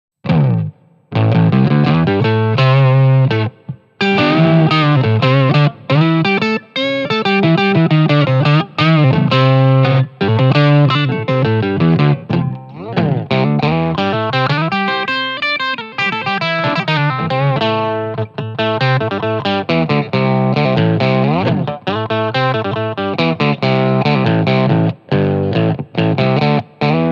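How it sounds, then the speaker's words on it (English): An electric guitar through a Line 6 Pod Go with the bass octave effect plays a loud, continuous lead line of bending, gliding notes with heavy distortion and a doubled lower tone, with no talking. "Let's do the octave. I used bass octave."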